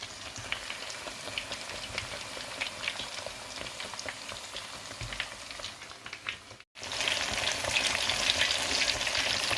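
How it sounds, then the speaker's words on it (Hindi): Gram-flour-battered fish fries over low heat, a steady close sizzle and crackle with scattered pops running throughout, briefly cut before resuming a little louder. "तो इसको हम तलेंगे हल्की आंच में कि अच्छी तरह अंदर से भी वो गल जाए, पक जाए।"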